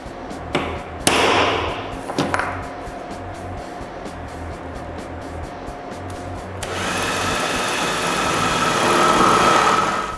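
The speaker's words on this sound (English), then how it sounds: "we drill the new holes." A few sharp knocks and clicks, then a power drill whirs steadily into a metal pipe, drilling holes, a sustained grinding whine that swells toward the end.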